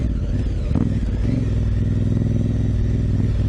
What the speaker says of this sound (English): I love the sound of that pipe that he's put on there